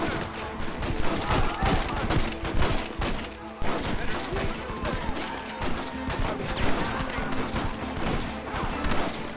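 Chaotic gunfire in Red Dead Redemption during a village assault, scattered shots and volleys crackling continuously under shouting voices and battle noise.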